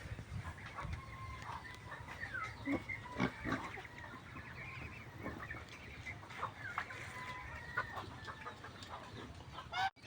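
Pigs grunt and squeal on a farm, mixed with chickens clucking nearby, in a continuous, busy livestock din that runs throughout at moderate loudness.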